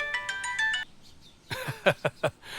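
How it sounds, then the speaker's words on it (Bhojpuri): A phone ringtone plays a short run of bright electronic tones for under a second, then stops. A few soft chirp-like notes follow, close and fairly quiet. "सिद्धार्थ साहब के फोन"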